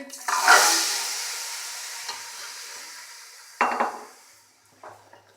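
Roasted masala with chickpeas being stirred in a pan, a spoon scraping and clinking against the metal in a few separate strokes over a soft sizzle, close and fairly loud.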